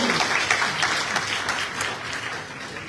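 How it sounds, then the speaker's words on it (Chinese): A meeting room full of attendees breaks into applause to approve a motion, a dense, loud, continuous patter of clapping that tapers slightly toward the end. "如果 这个同意的话，我们就鼓掌通过"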